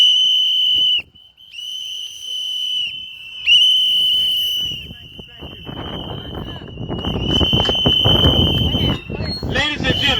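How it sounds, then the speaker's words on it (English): Crowd at a red whistle political rally in Washington, DC blowing whistles, shrill sustained blasts starting and stopping in bursts, then overlapping with cheering and shouting as the crowd grows loud. "Blow the whistle. Blow the whistle, folks."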